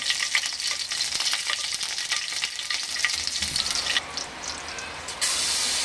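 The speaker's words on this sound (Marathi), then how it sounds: "इथे मी तेल तापत ठेवलेलं आहे आणि 2 मोठ्या मिरच्या अशा चिरून घेतल्यात मधून।" Slit green chillies fry in hot oil with a close, crackling sizzle full of quick pops, and the sound shifts to a smoother steady hiss near the end.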